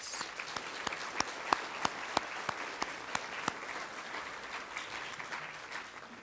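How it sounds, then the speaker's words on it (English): A round of applause from a banquet audience honoring donors at a 4-H awards dinner, steady dense clapping with a few sharper individual claps standing out, moderately distant and sustained throughout. "Let's give them a nice round of applause."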